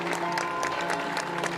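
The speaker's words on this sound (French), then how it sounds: "Des bisous qu'une foule applaudit." A crowd applauds during the Pucelette 2018 procession with the Notre-Dame figure, with steady, even clapping heard at a moderate distance over a faint sustained tonal background.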